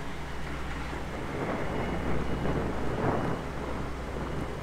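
A low, rolling rumble of thunder swells and fades amid a steady wash of rain and ambient noise, moderately loud and continuous.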